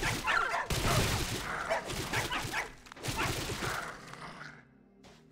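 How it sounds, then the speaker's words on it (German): Dogs near a ruin in the survival game Soulmask barking and yipping in several close, loud bursts, then trailing off into fainter whimpers. "Bestie, da sind so eine Hunde."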